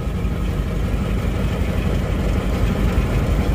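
Isuzu Panther diesel engine with a recurring rough-running fault, heard close up as a dense, low rumbling drone that holds steady without clear revving peaks.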